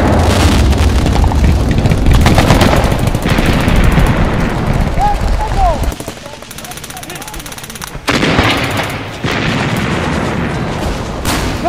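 Heavy battle effects of machine gun fire and explosions evoking an April 11 WWII clash at the Spycker bridge near Grande-Synthe, with dense continuous bursts and booms, a brief lull near the middle before the gunfire resumes.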